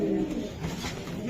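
A female racing pigeon coos in a low, throaty burble, close and fairly loud, a brief rolling call over a steady background hum.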